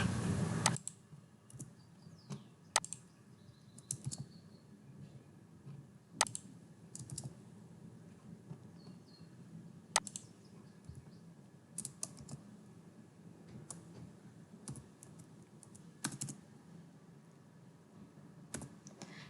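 Code is typed on a computer keyboard: soft irregular key clicks in short bursts with occasional sharper taps, close and fairly quiet, with no talking over them.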